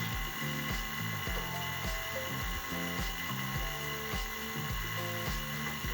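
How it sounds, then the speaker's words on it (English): A vacuum pump runs during an AC recharge on a 2013–2017 Honda Accord, giving a steady mechanical hum with a rhythmic, pulsing drone and faint ratcheting texture, constant throughout at moderate level with no talk. "Keep the vacuum pump on."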